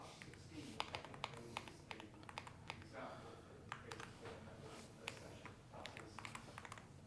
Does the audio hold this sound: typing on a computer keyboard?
yes